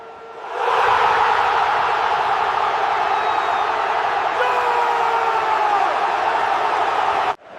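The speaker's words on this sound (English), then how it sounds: "This is what a USA goal sounds like in 2026." Stadium crowd roaring for a USA soccer goal in 2026, a dense sustained wall of cheering and whooping that swells in quickly and holds loud throughout before cutting off abruptly at the end.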